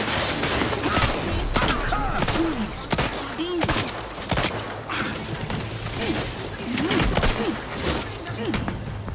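Gunfire erupts in a PC action game as repeated bursts of loud, rapid shots and sharp impacts crowd close together, with occasional voices mixed in.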